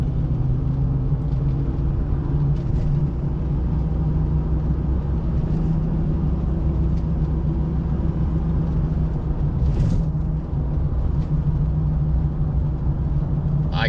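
A truck just fitted with a $50 part to cure death wobble drives down the road, giving a steady low engine and road rumble from inside the cab throughout, with no talking.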